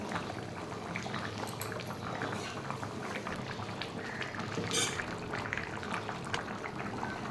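Jackfruit and prawn curry boiling in a pot, a dense, even bubbling and gurgling that stays steady and close throughout, with no voices.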